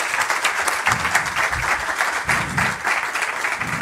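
An audience at a science talk on chemistry and sustainability applauds to welcome a scientist, steady, dense clapping from a crowd that holds for several seconds without pause.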